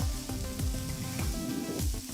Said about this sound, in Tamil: அப்புறம் 5 மீடியம் சைஸ் தக்காளி பொடியாக நறுக்கினது சேர்த்து நல்லா வதக்கணும்.